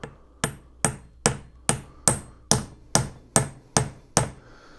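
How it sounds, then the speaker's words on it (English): A hammer taps a bearing onto a BMW E36 differential during a rebuild: ten sharp metallic strikes in an even rhythm, close and loud, with no talk. "Right, bigger hammer."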